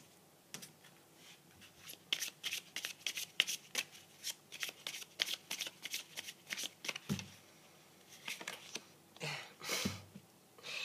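Fairy oracle cards shuffled by hand, a rapid run of close riffling flicks and soft slaps that pauses briefly, then resumes in bursts.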